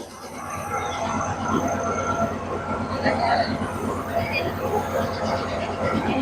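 A train rumbles steadily with rhythmic wheel clatter, moderately near, while people talk over the noise, as it crosses the Nine Arches Bridge in Ella, Sri Lanka.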